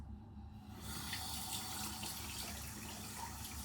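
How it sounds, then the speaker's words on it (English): Steady tap water running continuously into a sink, a close, even rushing splash that starts after a brief quieter moment and holds without pause. "I will run warm water and I will rinse my face"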